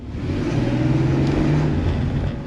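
A mint green Porsche 964 in Tiptronic, held in first gear, with a steady loud engine drone that builds slightly as the car accelerates, heard close without any voices.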